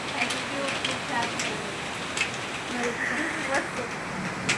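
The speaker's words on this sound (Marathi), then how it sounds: "किती गारे पण पडायला लागले" Heavy rain mixed with falling hail pours down near the Shankar Maharaj math, a steady dense hiss with scattered sharper hits, while voices talk over it.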